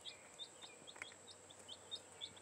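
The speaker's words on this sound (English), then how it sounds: "Oh, happy chickens." Chicks give repeated thin, high chirps at a steady, quick pace while eating, over a soft background hum, fairly close and moderately quiet.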